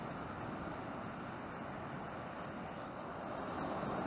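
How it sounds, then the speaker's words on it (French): Big waves at high tide on the ocean shore roar as a continuous, broad rushing wash, steady and distant-sounding, with wind noise blended in and no voices. "Les grosses vagues."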